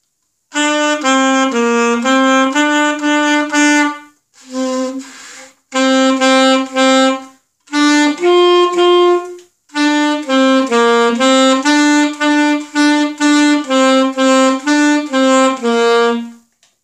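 A saxophone plays the simple, slow melody of "Mary Had a Little Lamb" in sustained notes separated by short pauses, clear and close with no voices.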